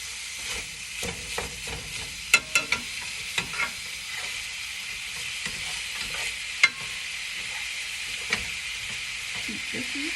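Pork sausage sizzling in a pan while being chopped and stirred with a utensil, a steady frying hiss broken by sharp scraping clicks and taps against the pan, close and clear.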